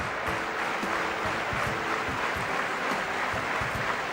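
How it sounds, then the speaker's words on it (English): A stadium crowd claps steadily after an athlete's long jump at an athletics meet, a dense, even, sustained wash of applause with no break. "It's the first time I've ever heard a crowd clapping after an athlete's jumped."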